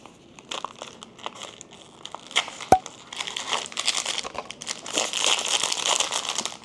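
A Smiski blind box package is torn and crinkled open, with bursts of plastic and cardboard crumpling and a sharp tearing snap, continuing as busy rustling throughout.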